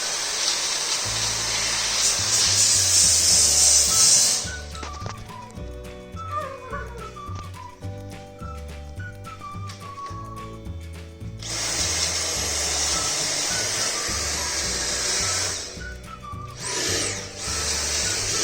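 Dyson V7 Trigger Pro handheld vacuum cleaner running loud and close with a steady high whine, cutting out midway while a melodic toy tune plays, then starting up again in bursts.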